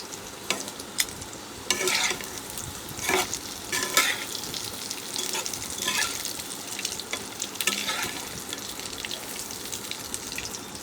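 Fried pointed gourd (potol) being stirred in a pan, a constant sizzle broken by repeated scraping strokes of the spatula at an uneven rhythm, close and fairly loud.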